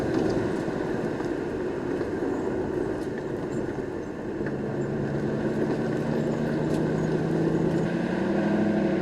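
A 1998 Ford Mustang SVT Cobra cruises on a test drive with a steady low engine drone and road rumble inside the cabin, the pitch rising slightly as the car accelerates near the end.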